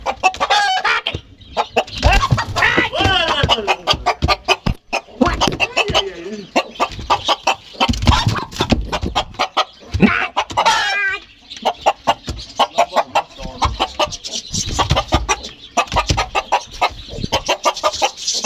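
A hen sitting on eggs clucks and churrs in repeated close bursts, with other fowl calling nearby and occasional voices in the background.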